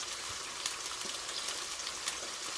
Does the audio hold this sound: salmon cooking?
yes